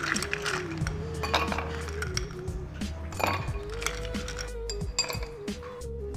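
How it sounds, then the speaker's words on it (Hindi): Ice cubes drop into a glass for a date milkshake, making repeated bright clinks and knocks against the glass over a steady tonal background. "तो ग्लास में आइस क्यूब डालेंगे,"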